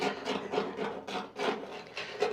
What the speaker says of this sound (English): we're gonna go ahead and start sanding this baby down